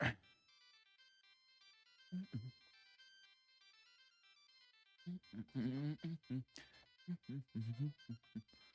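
A telephone rings in Marvel Ultimate Alliance: a steady electronic ringtone repeating with a few short vocal bursts at first, then continuing under a stretch of speech.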